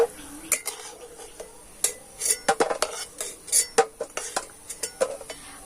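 Fried semolina snacks are lifted from a pan with a metal utensil, giving a run of sharp scraping clinks and taps against the pan, irregular and close, over a faint background sizzle.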